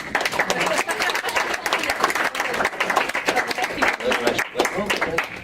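A convention panel audience claps steadily and fairly loudly for several seconds, a dense patter of hands with some crowd noise mixed in.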